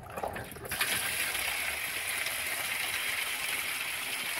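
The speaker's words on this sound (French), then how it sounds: "On va refaire un dernier gros rinçage." Water rinsing out the fuel tank of a Porsche 924 Turbo: a steady, dense rush and splash of water that keeps going without a break, close and fairly loud.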